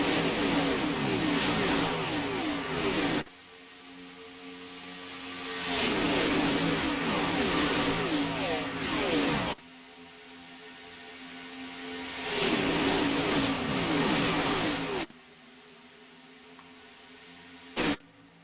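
Race car engines roar by in a desert racing video game, coming in loud repeating bursts of several seconds each as cars pass, separated by quieter gaps.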